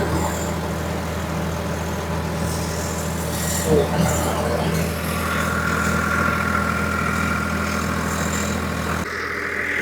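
A tractor engine drives a Gurbaz superseeder working soil in a field near poplar trees, a steady close-up drone that runs loud and continuous, then drops off suddenly near the end.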